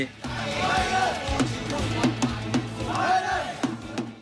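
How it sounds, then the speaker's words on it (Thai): Thai supporters shout and chant at an Asian futsal championship match in Taipei, a loud, close crowd roar with rising voices and sharp rhythmic beats throughout. "นี่เป็นส่วนหนึ่งของกองเชียร์คนไทยที่ตามเชียร์ติดขอบสนาม"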